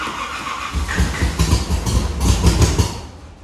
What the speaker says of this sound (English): Woo! It cranked! Woo! It's cranking!